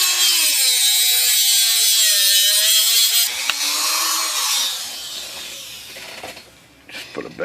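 A small rotary tool grinds a wider slot into a screw head on an IBM Selectric typewriter's center hub, a steady high whine for about three seconds that then drops in pitch and fades into quieter scraping and clatter.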